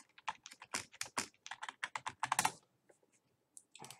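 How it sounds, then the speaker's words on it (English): Rapid keystrokes on a computer keyboard as a username and password are entered, a brisk burst of close, crisp clicks for about two and a half seconds, then a pause and a few final taps. "I'm gonna type in admin, and I'm gonna type in my password"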